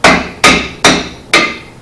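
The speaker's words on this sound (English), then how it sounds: "I just take my hammer and give it" Four sharp metallic hammer strikes on a rusted-in rear brake part of a Chevy Silverado/GMC truck, evenly spaced about half a second apart, each ringing briefly before the next blow lands close by.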